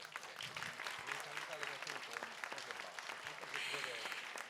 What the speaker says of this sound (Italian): Vorrei un applauso molto forte